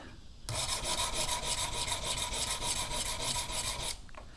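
A traditional broadhead is sharpened on a sharpening stone, producing a steady, close rasping scrape with continuous back-and-forth strokes for several seconds, alone with no talk.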